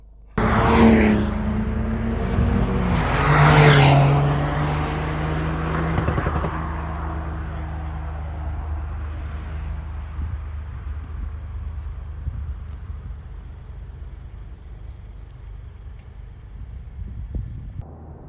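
Toyota Corolla pulling away and driving, engine revving up in two loud surges early on, then settling into a steady lower cruising hum with road and wind noise that slowly fades.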